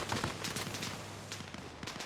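Machine gun fire in a video game battle between USMC Raiders and insurgents at an outpost, heard as rapid bursts over a steady low rumble throughout.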